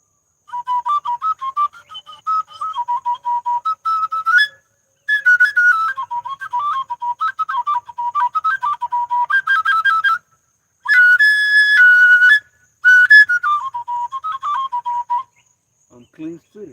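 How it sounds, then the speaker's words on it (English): A flute plays a wandering, ornamented melody at a spiritual deliverance gathering, sustained phrases broken by short pauses and a brighter high passage near the end, loud and close with no talk. "Casting out unclean through the sound of the flute"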